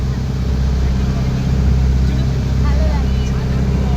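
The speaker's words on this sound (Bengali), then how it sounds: "আমাদের বোটটা কেবল ছাড়লো" A tourist boat in Hyderabad pulls away on a trip to the Buddha statue, its engine a loud, continuous low rumble and drone close by throughout.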